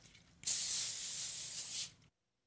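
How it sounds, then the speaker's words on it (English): A can of vegetable cooking spray hisses onto a foil-covered baking sheet in one steady burst of about a second and a half, close and clear, then stops abruptly. "I'm going to spray that with a little bit of vegetable spray"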